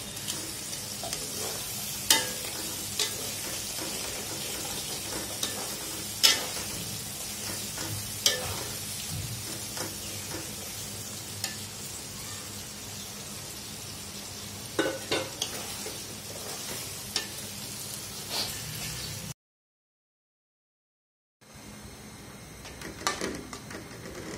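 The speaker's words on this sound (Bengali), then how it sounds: "আমার মশলা ভাজা ভাজা হয়ে গেছে। এখন আমি মাংসগুলি ছেড়ে দিচ্ছি।" Meat sizzles steadily in hot spiced oil while being cooked for haleem, with occasional stirring clicks. The sound cuts out briefly near the end, then the frying resumes.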